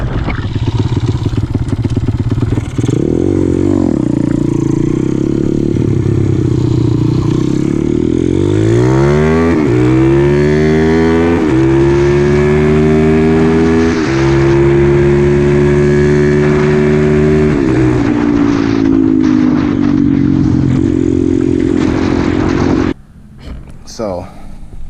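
A small vehicle's 212cc engine revs hard, its buzzing pitch climbing and dropping through several throttle pulls, loud and close, before cutting off abruptly near the end.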